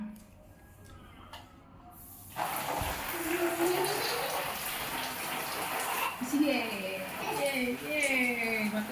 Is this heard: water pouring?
yes